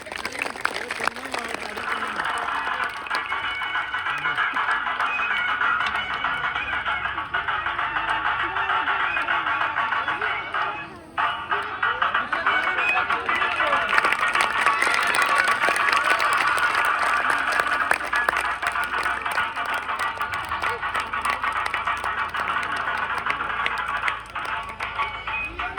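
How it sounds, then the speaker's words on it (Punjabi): Children clap loudly and steadily at a village show by bazigar performers. The applause holds at a constant, close level for a long stretch, dips briefly once, then resumes. "ਲੈ ਬੱਚੇ ਤਾੜੀ ਮਾਰੋ ਜ਼ੋਰ ਦੇ ਨਾਲ"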